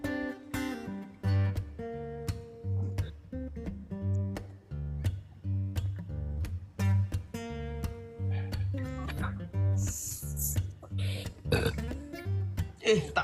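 A person burps loudly several times during a heated religious debate, with the deep belches mixed in among talking voices and steady background tones.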